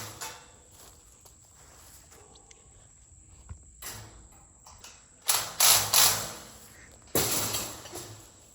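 Bolts being tightened during assembly of a tripod deer stand, heard as scattered mechanical clicks and ratcheting bursts, with louder metallic rasps and scrapes near the end and no talk.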